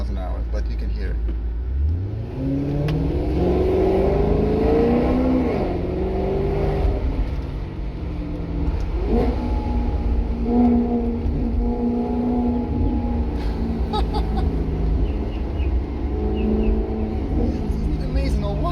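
A 2017 Maserati GranTurismo engine rumbles steadily from inside the cabin, its exhaust note rising and falling as it accelerates and shifts at low speed, with a deep drone throughout.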